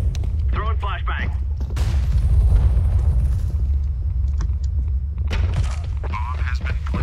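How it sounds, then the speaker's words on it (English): A flashbang grenade detonates in CS:GO, giving a booming, rumbling burst in the middle of the clip, with short gunshots and game voices before and after. "Throwing flashbang"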